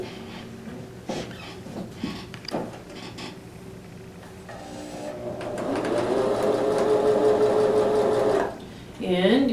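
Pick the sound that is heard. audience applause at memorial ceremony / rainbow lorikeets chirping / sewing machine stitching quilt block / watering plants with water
sewing machine stitching quilt block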